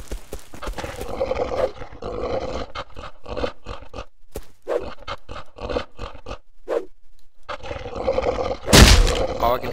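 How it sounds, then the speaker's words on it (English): A bear attacking in the Rust video game, with harsh growls and roars amid thudding hits and scuffling, ending in a loud burst, while someone talks over the action. "This bear is so mean."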